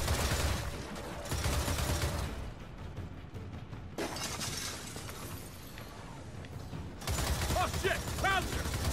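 Chaotic combat in the Gears of War 4 video game, with dense, loud bursts of gunfire and crashing, shattering impacts that keep going almost without a break and swell again near the end.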